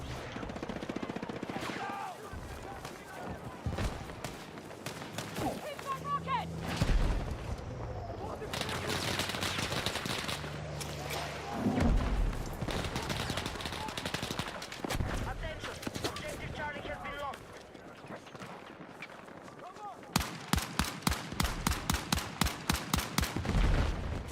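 Video game firefight with rapid gunfire, scattered shots and bursts throughout, ending in a fast rhythmic volley of loud shots, with a voice talking at times.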